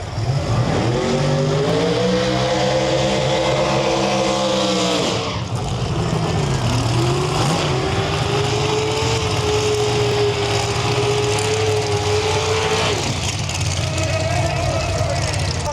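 A Mustang drag racing down the track, its engine roaring with rising revs through several gear changes, loud and close, with a second engine tone later and a commentator talking over the noise.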